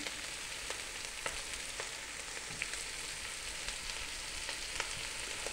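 Cabbage sautéing in a pan with bacon and caraway, a faint, even crackling sizzle with scattered small pops, close but quiet and without speech.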